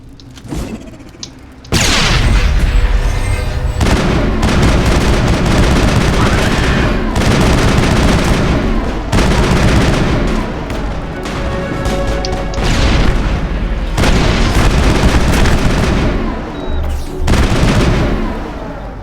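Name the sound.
grenade explosions and gunfire in video game Mass Effect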